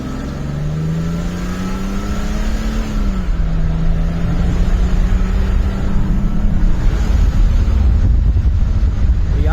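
A Mercedes C124 320CE coupe cruises at 90 km/h, its engine a steady low hum with a gear-change dip in pitch, under continuous loud road roar and wind buffeting from inside the car, with no speech.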